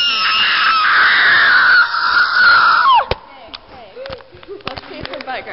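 A child imitates a dinosaur roar with a loud, shrill, strained scream held for about three seconds, then breaks off into scattered quieter voices and clatter.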